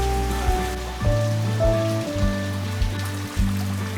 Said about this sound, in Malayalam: ഇപ്പോഴും അതേപോലെ തന്നെ നല്ലൊരു മഴ കിട്ടി